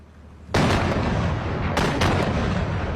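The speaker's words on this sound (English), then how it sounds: "they're now re-zeroing the mortars to drop the rounds on top of that bunker" Mortar rounds strike a Taliban bunker, one sudden loud blast followed by a second, rolling explosions echoing heavily into the distance.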